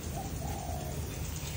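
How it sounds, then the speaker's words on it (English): Doves cooing with other birds calling in a quiet natural setting on Ibiza, Spain; a soft, low cooing runs steadily through the short stretch over a faint, constant ambient hiss. "The birds are singing."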